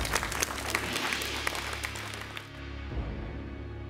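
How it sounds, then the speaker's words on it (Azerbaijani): An audience at a television quiz show applauds the contestants with steady, moderately loud clapping that fades out near the end. "Alqışları eşidirlər öz ünvanına."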